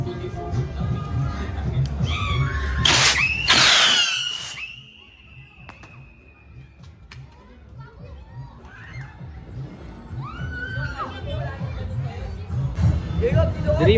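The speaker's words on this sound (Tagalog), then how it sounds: "Whistle Rocket Bombshell by Lebrilla Fireworks." Lebrilla Whistle Rocket Bombshell fireworks: a bright rising whistle shrieks overhead, ending with a sharp burst, while crowd chatter and children's voices continue around it.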